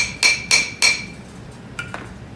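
Hammer strikes driving a new front wheel bearing race into the hub of a 2WD Ford Ranger: three sharp, ringing metallic blows in steady rhythm, then two lighter taps as the race bottoms out, close and loud with no voices.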